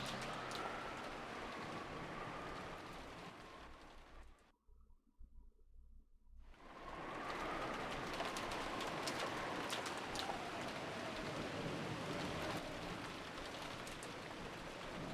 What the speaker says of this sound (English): it was very quiet, filled with only the sound of the rain.